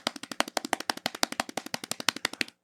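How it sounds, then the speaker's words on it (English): Vigorous hand clapping: a single person's sharp, close, rapid claps in a fast even rhythm, about two dozen in quick succession, then stopping abruptly. "Why do you want me to clap my hands together vigorously?"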